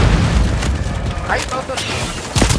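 A grenade blast from the dinosaur shooter Second Extinction: a loud, muffled boom with crackling debris and gunfire over a busy mix, while players shout and chatter throughout.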